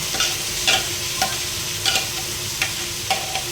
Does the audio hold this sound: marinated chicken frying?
yes